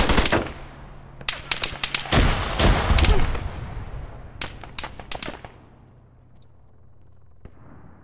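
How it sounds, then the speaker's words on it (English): Rapid bursts of automatic gunfire in the military shooter Arma 3 during a King of the Hill infantry match, loud sharp volleys clustered in several rapid bursts with brief gaps between them, no talk. "Another guy shooting at me."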